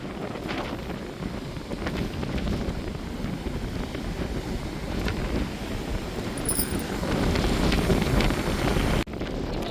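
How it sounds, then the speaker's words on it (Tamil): Strong wind buffets the microphone in a steady roar at the Dhanushkodi seashore, with a low rumble of surf underneath, continuous and loud, dropping briefly near the end. "கடலில் பாருங்கள் சரியான காற்றுங்க பயங்கரமான காற்று"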